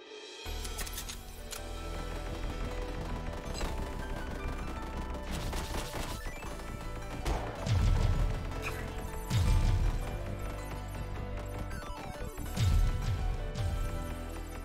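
Micro-missiles firing in the PC action game One Step From Eden, with rapid bursts of sharp explosive pops and crashes over a steady, busy electronic game soundtrack, the strongest volleys clustering near the end.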